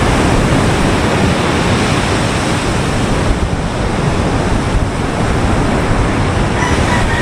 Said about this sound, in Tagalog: background natin yung dagat